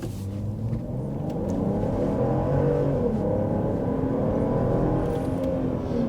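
A Volvo S80 T6 sedan accelerates hard with a steady, rising engine roar and drone from inside the car, continuous and fairly loud throughout, with no talking.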